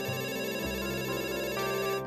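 A phone ringing in a Hindi audio drama, a steady, sustained electronic ringtone heard alone and at moderate loudness throughout, with no speech.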